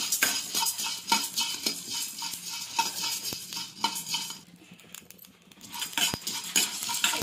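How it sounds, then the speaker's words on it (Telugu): Coriander seeds, cinnamon and cloves are stirred in a pan with a metal spoon, giving repeated close scraping and clinking strokes over a faint sizzle, with no one talking. "ప్యాన్ పెట్టుకొని ధనియాలు, చెక్క, లవంగా వేసుకొని ఫ్రై చేసుకోవాలి"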